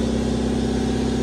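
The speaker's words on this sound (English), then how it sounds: "sorry for the noise, the compressor kicked on" In a workshop, an air compressor runs as a loud, steady mechanical drone with a strong low hum, close and unbroken, with no talking.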